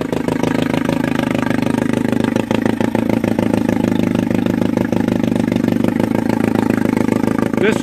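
A small Johnson TD20 5 hp outboard motor runs continuously at a steady, loud, buzzing idle, close up and alone with no talk.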